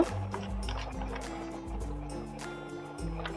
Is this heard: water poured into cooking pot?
yes